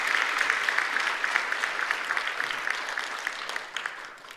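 Congregation applauding during a church service certificate ceremony, a dense steady patter of many hands clapping throughout with a few sharper claps standing out near the end.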